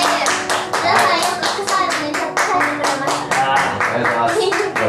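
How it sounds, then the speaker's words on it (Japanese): Close, loud rhythmic clapping by a small group of hosts in a casual indoor setting, evenly spaced claps with brief voices mixed in. "体を張ってくれたユンちゃんに今一度大きな拍手を"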